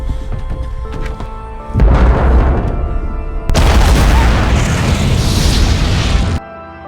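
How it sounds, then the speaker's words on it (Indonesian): A bunker explodes in a series of loud, heavy booming explosions, one erupting after another into a sustained roaring blast that fills the scene, then cuts off abruptly. "tapi tiba-tiba bunker meledak."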